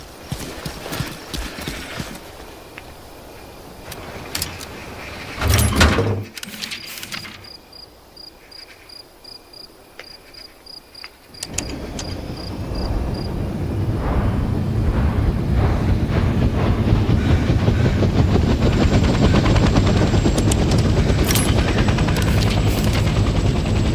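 Helicopter in Hell Let Loose Vietnam starting up: a brief whine and clatter, a quieter pause, then the engine catches and the rotors build into a loud, steady chopping drone that holds to the end.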